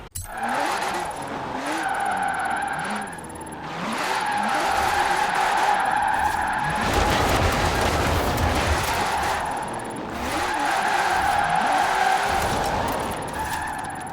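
A Porsche Emory 356 RSR in Forza Horizon 4 is driven hard in a drift attempt on Fortune Island, its engine revving up and down loudly with squealing tyres, close and continuous.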